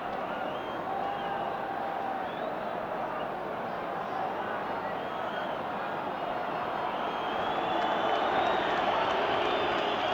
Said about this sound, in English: Crowd a little irritated by that.